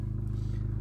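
Idling engine of a 2018 Fiat Abarth 595 with turbo downpipe and short exhaust, a steady loud low rumble with rapid pulsing throughout, close by.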